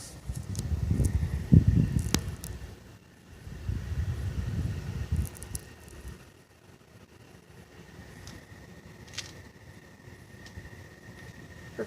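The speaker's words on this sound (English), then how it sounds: "Wind is blowing probably 40 miles an hour, gusts up to 50." Blizzard winds of about 40 mph, gusting to 50, buffet outdoors in deep snow drifts, giving irregular low roaring gusts that swell and die away, loudest early on and then quieter and sparser.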